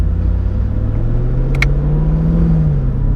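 A Chevrolet Camaro SS engine drones loud and close with a deep steady rumble, pitch rising slowly as it drives, with a brief sharp squeal near the middle.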